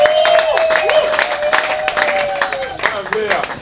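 A guest of honour is welcomed with clapping at an anniversary celebration, distinct hand claps ringing out over a continuing voice and background music at moderate loudness.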